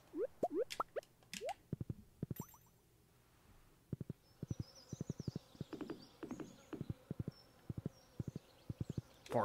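Horse hooves clip-clop in a modded farming video game, quick bursts of close, crisp steps in short runs with pauses between, alongside light game chirps and no talk.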